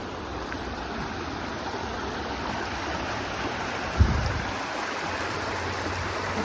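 A creek in the woods flows with a steady, soft broadband wash throughout, briefly broken by a low thump near the middle.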